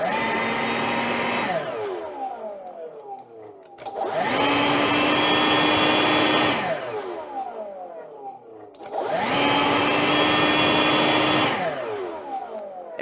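A DeWalt 60V brushless leaf blower runs at maximum with a loud, steady whooshing roar that rises in three long surges and dips between them, close by and with no talking.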